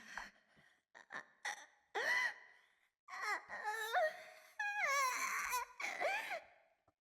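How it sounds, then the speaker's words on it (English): A girl pants and gasps for air in the CHAOS;Head NOAH visual novel, with a run of breathy, strained, whimpering breaths that rise to loud, sob-like cries near the end. "The only sounds were her panting for air and the straining of the metal chair."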